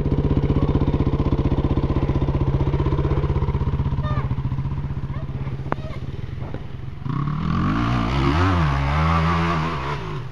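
Motorcycle engine revving hard while climbing a steep mountain slope, a loud, close, steady drone that shifts around seven seconds into wavering, uneven revs.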